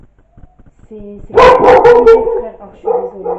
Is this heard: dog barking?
yes